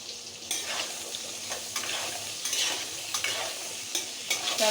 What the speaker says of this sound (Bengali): এটাকে লাল করে নেব ভেজে